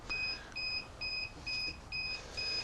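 A duck egg incubator's alarm sounds in a steady series of six short electronic beeps, evenly spaced about half a second apart, clear and alone over faint background hiss.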